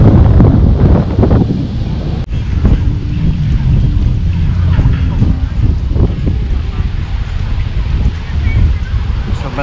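Strong wind buffets the microphone in an open seaside park, Luneta's Rizal Park in Manila, a loud continuous roar with gusty swells throughout.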